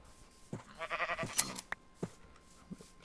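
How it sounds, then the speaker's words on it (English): Sheep bleating in the Strixcraft Magitech Minecraft modpack, a few short wavering bleats close by with brief clicks and thumps of play around them, no talking. "Shearing this sheep is going to be very useful."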